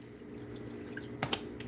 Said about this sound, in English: Just going to add some water to the back of this.